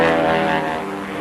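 Aircraft engines drone from fighter planes launched off aircraft carriers in a wartime setting of circa 1939 to 1946, a steady, loud propeller roar sustained throughout without any voices.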